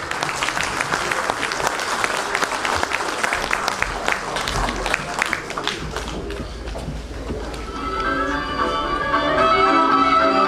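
Audience at a village jubilee concert in Voloca in 2018 claps steadily for an artist being welcomed to the stage, a dense wash of applause that swells louder toward the end, with some voices mixed in.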